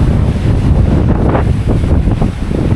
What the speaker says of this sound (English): I'm gonna miss this breezy lake.